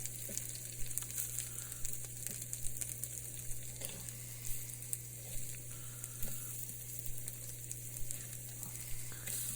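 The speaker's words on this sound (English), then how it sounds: "Flipping those eggs." Eggs frying in shortening, a steady close sizzle and crackle with small pops throughout, fairly quiet and without talking.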